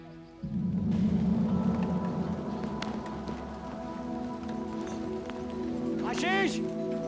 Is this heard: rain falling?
yes